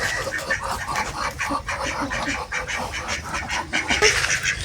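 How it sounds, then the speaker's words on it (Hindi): A flock of large ducks quacking, a busy run of repeated, overlapping calls close by, loud and steady throughout with no voices. "आज बड़ी बतख लाया हमने"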